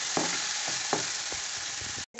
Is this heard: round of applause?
no